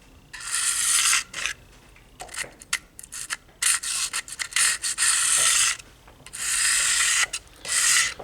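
A knife is drawn across the 600 grit side of a Lansky diamond stone in repeated bursts of rasping, scraping strokes with short pauses between, close and clear with no voices.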